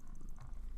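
Artemis the cat purrs, a faint low rumbling flutter close to a microphone with a soft click near the end, no talking.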